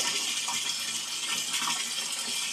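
Water rushes steadily from a tap into a container, a constant hissing splash heard close up, with no voices.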